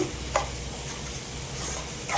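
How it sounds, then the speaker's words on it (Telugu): Masoor dal being stirred in a hot pan sizzles steadily, with a spoon occasionally scraping against the pan as the frying hiss carries on without a break. "మైసూర్పప్పు వేసుకున్నాక కలియ పెట్టుకుందామండి."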